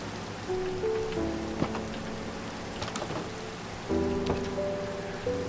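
Steady rain falls in the video game Prologue, a constant dense hiss with scattered drops striking nearby. Soft tonal game sounds drift under it.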